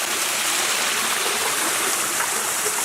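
Water at Turkey Run State Park pours over small rock falls into shallow pools, making a steady, full rushing splash that holds at one even level, close by and with no voices.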